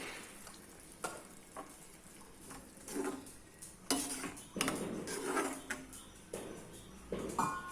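Pots and utensils clink and scrape close by while egg curry gravy sizzles and bubbles in a pan, with irregular clatters throughout.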